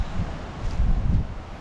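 Strong cold wind gusts in the open, swelling and easing in a loud, low rumble across the microphone, with no one talking.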